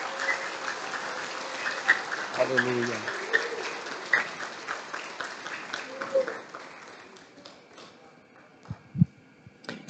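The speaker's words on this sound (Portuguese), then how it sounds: "Dê um aplauso ao Senhor novamente." A congregation claps during a church service at an official installation ceremony, with steady mixed clapping under a speaking voice that thins out and fades near the end.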